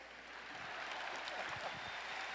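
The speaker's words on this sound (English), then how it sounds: "give him a round of applause" An audience gives a steady round of applause for chiropractor Dr. Richard Busch at a speaking event, a continuous wash of clapping heard faintly and evenly throughout.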